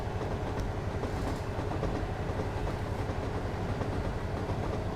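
A steady rumbling diesel train engine in the Train Simulator 2020 game drones with rhythmic wheel clatter underneath, continuous and even, heard from inside the cab on the Norwich to Great Yarmouth line, without any voices.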